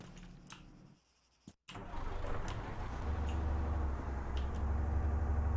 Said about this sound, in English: I can hear the guy in the car.